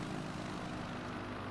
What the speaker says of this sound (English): you hear that engine echoing. Sounds very nice.